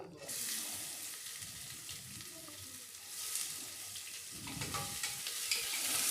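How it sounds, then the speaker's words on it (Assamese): Onions frying in a pan with cardamom and a little sugar for chicken pulao, stirred steadily with a spoon; a continuous close sizzle with scraping strokes that grow busier toward the end, no talk. "এইখিনি ভালদৰে লৰাই দিছোঁ"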